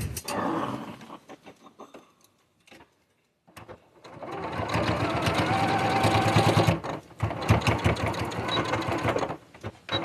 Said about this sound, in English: Let's sew this one again and actually include all of the fabric this time.